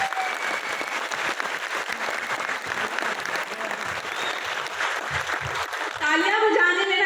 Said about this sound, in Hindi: तो मैं चाहूंगी हमारे सभी अचीवर्स के लिए एक बार जोरदार तालियां हो जाए।